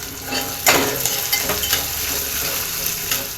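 Onion and green chili sizzle steadily in a hot pan, with a louder burst as the pieces hit the oil and occasional stirring scrapes, close and continuous.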